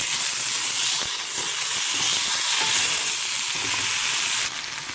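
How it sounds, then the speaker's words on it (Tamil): Tomato and snake gourd seeds sautéing in a pan give a steady, close frying sizzle and hiss with occasional scraping stirs, heard alone and easing slightly at the very end. "இந்த சமயத்தில் தக்காளியும் பொடலங்காய் விதையையும் இதில் போட்டுக்கலாம். போட்டு இதையும் நல்லா வதக்குங்க."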